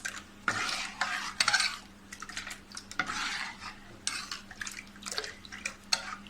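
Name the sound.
stirring soaked rice flour batter for ghavne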